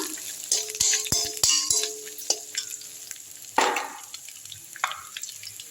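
Cashews and ginger fry in a pan as a coconut rice base, with a bright sizzle and a series of sharp metallic clinks and scrapes from stirring, loud and close at first and then settling into a quieter crackle.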